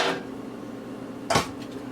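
A spatula scrapes tomato sauce out into a cooking pot, giving a soft scrape at the start and a sharper clink and scrape against the pot rim later, close and otherwise quiet.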